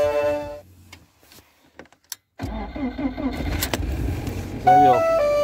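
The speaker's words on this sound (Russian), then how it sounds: "Сейчас я сначала заведу." A car engine cranks and catches on a cold, icy day, followed by a steady loud idle after a quiet pause with small clicks; a tonal beep chirps near the end.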